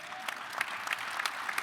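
Audience applause at a Detroit event about NFL Draft week, a soft, steady patter of many hands with a few sharper claps standing out, heard from a distance.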